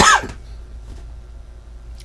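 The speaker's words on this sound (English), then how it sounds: "Sorry for the coughing." A single harsh cough right up close, loud and brief, followed by quiet room tone.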